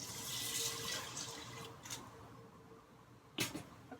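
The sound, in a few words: water being poured into an Instant Pot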